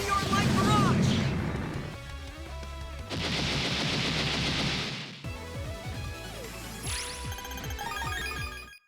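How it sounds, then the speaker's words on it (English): The Meteor Light Barrage attack in Mega Man Star Force 3 unleashes a string of loud synthetic blasts and crashing impacts, with tonal effects sweeping over the top in distinct bursts. "I can end this with Meteor Light. Meteor Light Barrage!"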